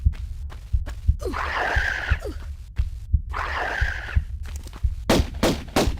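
Gunfire in the Tomb Raider Unfinished Business Atlantean level: a few sharp, loud bursts crack near the end, with a rumbling in-game ambience and whooshing effects before them.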